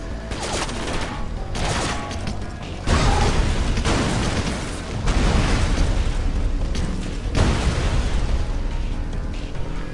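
Grenade blasts and gunfire fill a firefight in the video game Area 51, with loud, repeated bursts and rumbling booms stacking over continuous mechanical clatter.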